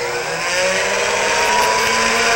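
A Foredom rotary handpiece spins at 10,000 RPM while cutting threads on a lid, giving a continuous, close, high-pitched motor whine that holds steady for a couple of seconds.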